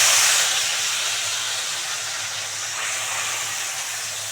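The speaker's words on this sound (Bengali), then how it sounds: "এবারে এই মাখানো মাছটা পুরোটা এর মধ্যে দিয়ে দেবো" Small marinated kachki fish dropped into hot oil sizzle with a loud, dense, continuous hiss that eases slightly after the first moment and then holds steady, with no talking.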